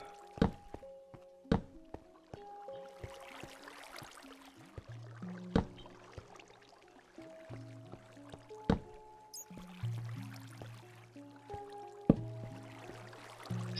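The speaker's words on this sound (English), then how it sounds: "I hear water but no signs of lava." Water drips slowly and irregularly in a Minecraft cave, each drop a hollow plink spaced a second or two apart, with faint ambient rumble between and no talk.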